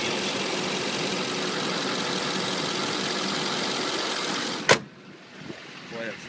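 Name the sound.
2007 GMC Sierra diesel engine idling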